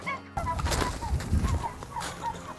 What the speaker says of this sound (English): We're gonna go feed some turkeys right now